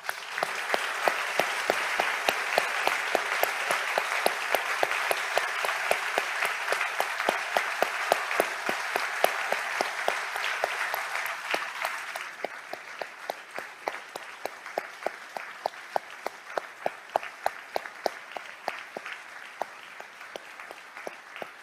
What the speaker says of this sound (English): Now let's give him an applause for the miracle you're about to receive.